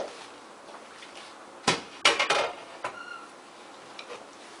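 A few sharp metallic clanks and clicks come close together as a cooled pressure cooker lid holding mutton yakhni is worked open, then a quiet hiss and light taps.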